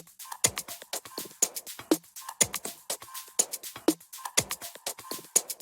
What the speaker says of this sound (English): In total, our percussion sounds like this.